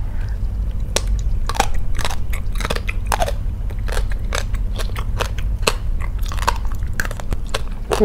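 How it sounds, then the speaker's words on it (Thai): Someone bites and chews a crunchy Thai salad of gong chai greens pounded with large shrimp. Close, crisp crunches repeat in an irregular but steady rhythm throughout, with no talking over them. "มากินกรุบกรุบอีกแล้วค่ะตำใส่กับ กุ้งค่ะพี่น้อง"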